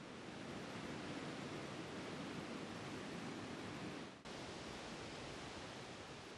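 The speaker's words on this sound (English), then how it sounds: "The upper part of the waterfall has an even stronger current." Steady, dense roar of a powerful Alaskan waterfall and fast river current carrying salmon, loud and unbroken throughout with no voices.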